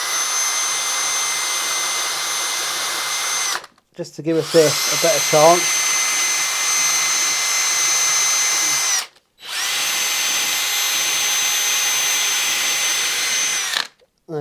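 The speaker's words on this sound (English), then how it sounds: "I'm just going to clean these bolts off with a wire drill attachment" A power drill with a wire brush attachment whines steadily with a scrubbing hiss as it cleans bolts, stopping twice for short pauses; a person speaks briefly during the first stretch.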